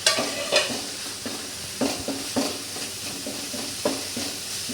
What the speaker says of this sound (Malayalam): എന്നിട്ട് ഇതൊന്ന് തീ കൂട്ടി വെച്ച് ഒന്ന് ഇളക്കി യോജിപ്പിക്കണം